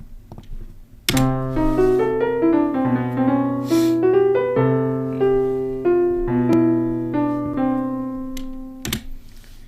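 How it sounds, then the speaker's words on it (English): A dark piano plugin with a muted tone plays slow chords and a simple melody, notes ringing and overlapping, close and steady with no talking. "use a dark piano."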